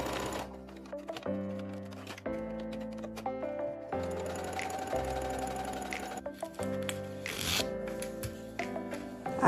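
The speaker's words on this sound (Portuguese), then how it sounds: "Vou fazer também um pesponto aqui na parte do zíper para fazer o acabamento." Sewing machine topstitching along a zipper on recycled denim for a fabric headphone pouch, running in steady rapid bursts of needle clatter with brief pauses between runs, close and fairly loud throughout.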